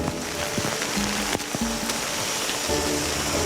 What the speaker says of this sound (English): when we bring in our own rain, we pound a lot of water out